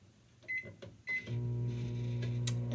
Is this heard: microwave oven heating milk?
yes